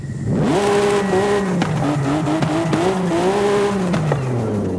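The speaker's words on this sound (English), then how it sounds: "So here's the street exhaust sound." A Toyota Supra MK4 engine in Forza Horizon 5 with a street exhaust revs hard with a raspy note, pitch climbing and dropping through repeated throttle blips and gear changes, loud and close.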